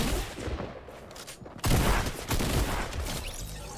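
Video game gunfire erupts in rapid bursts during an online shooter match with sniper rifles. Quieter shots come first, then a louder, sustained volley of fire dominates the second half, with no voices.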